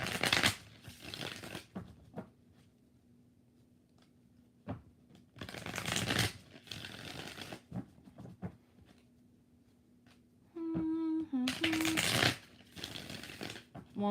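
Tarot cards shuffled in several distinct bursts, each a quick crisp riffle close up, separated by quiet stretches where a voice speaks, with a faint steady tone running beneath.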